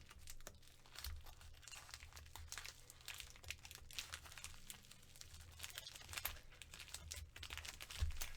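Plastic packaging on a diamond painting kit crinkles and tears close by as scissors cut through it, with steady rustling that is quiet and free of talk.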